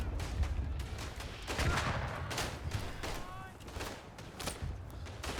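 Artillery and gunfire in the World War I trench shooter Verdun, with heavy booms and scattered shots rumbling near and far across the whole stretch, someone talking over it.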